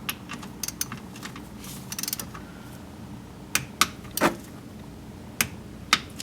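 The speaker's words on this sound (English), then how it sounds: "It's a 12 millimeter socket, and it torques down to 14 foot-pounds." A 12 mm socket wrench tightens a bolt on a Yamaha YXZ side-by-side, faint scattered ratcheting clicks in short bursts with quiet pauses between them.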